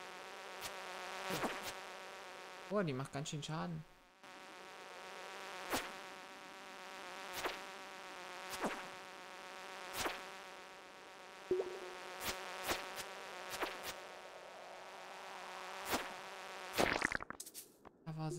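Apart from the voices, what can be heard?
buzzing fly from the video game Stardew Valley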